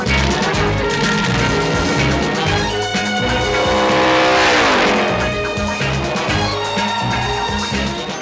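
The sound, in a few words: fast car racing with tire squeal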